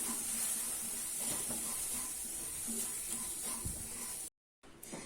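Moong dal roasts in a pan over a medium flame, giving a steady, soft hiss with occasional scraping stirs. A brief silent gap cuts in near the end.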